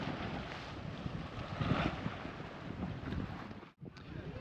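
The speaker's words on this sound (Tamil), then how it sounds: "பாருங்கள் காற்று நல்லா அடிக்குங்க" Strong wind at the Manora Fort beach in Thanjavur roars steadily across the microphone with a broad, rushing hiss, and a brief dip near the end before the gusting resumes.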